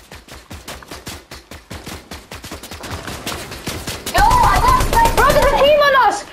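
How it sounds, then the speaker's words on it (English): Rapid gunfire in the video game Fortnite, a fast string of loud close shots that speed up into dense bursts, followed by excited shouting voices over the continuing fire. "Where's he shooting from?"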